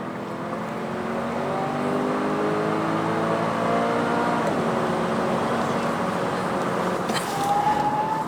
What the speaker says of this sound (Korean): 제로백 테스트, 즉 정지에서 시속 100km에 이르는 시간을 측정해 보겠습니다